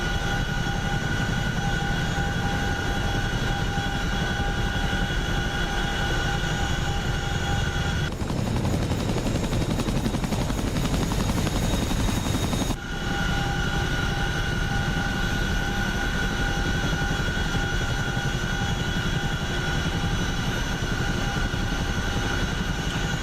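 An AH-64D Apache helicopter flying in the DCS World combat simulator, a loud constant rotor and turbine drone with steady tonal whine, briefly thickening into rougher noise midway before settling back, with no talk.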